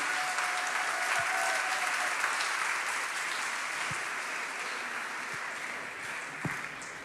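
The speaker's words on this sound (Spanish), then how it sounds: "Un aplauso más fuerte al Señor," A congregation gives sustained, loud applause during worship at a church conference, a dense, even wash of clapping that runs the whole stretch and eases slightly toward the end.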